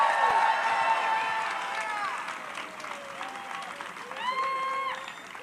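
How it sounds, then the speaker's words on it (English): Crowd applause and cheering at a women's pro surf contest finals in Oceanside, a steady wash of clapping with whoops rising over it, fairly loud throughout and swelling again near the end. "She deserves a hearty round of applause"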